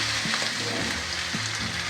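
Ukrainian potato pancakes (deruny) fry steadily in a pan, giving a continuous dense sizzle with soft crackles and brief stirring sounds throughout, close and fairly loud, with no voices.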